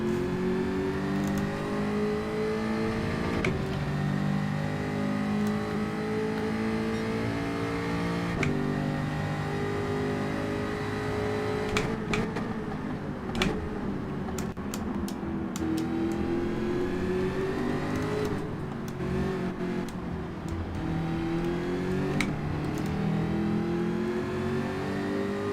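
A Jaguar Group 4 race car in Gran Turismo 7 on Grand Valley Highway 1 revs hard and loud through a long stretch, its engine pitch climbing and dropping with gear changes and throttle lifts, with brief clatters midway.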